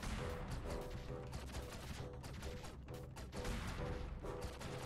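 A turret in the video game Owlboy fires a dense, rapid barrage of shots, with crackling bursts that repeat over game music and effects.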